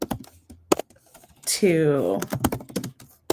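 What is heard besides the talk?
typing on a computer keyboard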